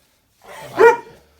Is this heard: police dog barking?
yes